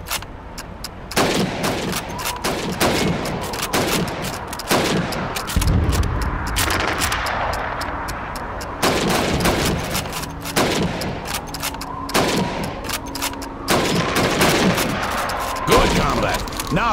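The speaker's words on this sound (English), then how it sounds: "You have 15 seconds to shoot the helmets." Rifle fire at helmet targets on a timed training course in Call of Duty 2, with sharp gunshots cracking repeatedly in quick irregular bursts, loud and near, while game voices speak between the shots.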